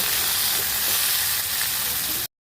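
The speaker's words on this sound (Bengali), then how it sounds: "আলু আর পটলটাকে একটু দুম করে কেটে নিয়ে তারপর একটু লবণ দিয়ে হলুদ দিয়ে একটু ভাজা ভাজা করে নেব" Potato and pointed gourd pieces frying in oil with salt and turmeric, giving a steady, loud, close sizzle that runs without pause and then cuts off abruptly.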